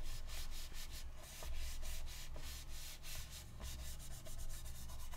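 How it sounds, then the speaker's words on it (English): A hand rubbing steadily over an ink stamp pressed onto paper, making a close, continuous scratchy friction sound in quick repeated strokes with no speech. "we'll carefully rub over the top and see what we get"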